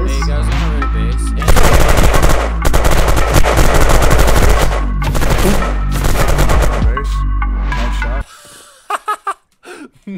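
Rapid bursts of automatic gunfire in the game Unturned, loud sustained volleys with brief gaps, ending in a few scattered single shots after a sudden drop.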